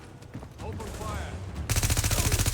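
Rapid automatic gunfire in a video game, The Division, starting abruptly after a stretch of ambient game sound and continuing as a loud, steady burst of evenly spaced shots to the end.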